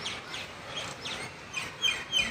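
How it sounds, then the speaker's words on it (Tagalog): Small birds chirp and tweet in short repeated bursts outside a school, fairly close, with a few brighter calls near the end, over a steady outdoor background with no talking. "May mga ibon naman oh. Ang sasaya din ng mga ibon."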